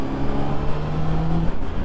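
A Honda CBR 600RR sport motorcycle accelerates past a car on the road, its engine holding a steady whine and rumble with a sustained tone that fades out near the end.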